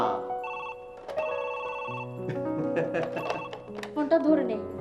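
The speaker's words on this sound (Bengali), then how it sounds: "শোনো শোনো ওই ফোন এসছে ফোনটা ধরো" A telephone rings indoors in a Bangla TV drama scene, playing a clear melodic ringtone of repeated tonal notes that continues for several seconds.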